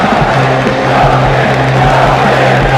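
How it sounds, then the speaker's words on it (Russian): A large arena crowd roars and applauds after the grand final of a major Dota 2 tournament, a loud, dense, continuous wall of cheering and clapping. "вот настоящие аплодисменты пошли"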